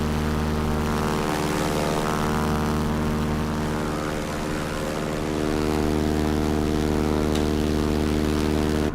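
Steady, loud drone of a Westland Lysander's radial engine and propeller in Microsoft Flight Simulator 2024, heard from outside the aircraft, a constant rumbling hum with layered tonal harmonics and no talking.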